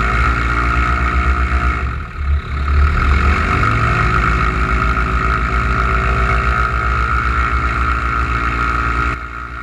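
Pipistrel Alpha Trainer light aircraft engine run up toward 4,000 RPM, a loud steady propeller drone with strong low harmonics that dips briefly, then rises and holds evenly before cutting lower at the end.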